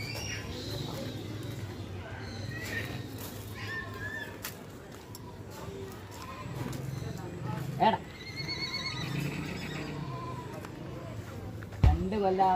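A horse neighs and whinnies at a pet park, with hoof clip-clops, background chatter and birds cooing nearby; a louder whinny bursts out near the end.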